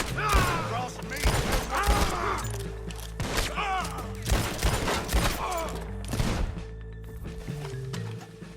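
Rolling block and Springfield rifle shots in the Western video game Red Dead Redemption, several loud sharp reports spaced a second or two apart amid game effects, with horse hooves and brief voices mixed in.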